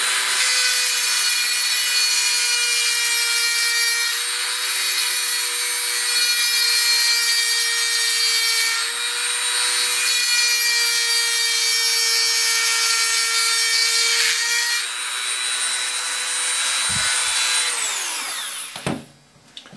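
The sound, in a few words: cutting aluminum part, producing shavings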